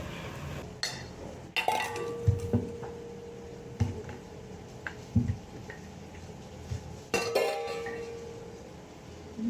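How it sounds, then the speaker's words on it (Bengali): Cooked food is moved into a bowl in a home kitchen, with scattered sharp clinks of a metal utensil against dishes and a few louder scraping knocks in a quiet room. "এবার এটা একটা বাটিতে তুলে নেব।"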